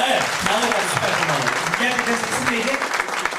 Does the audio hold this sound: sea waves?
no